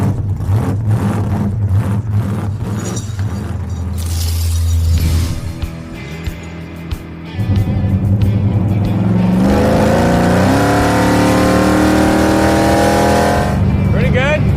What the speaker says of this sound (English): let's go ice racing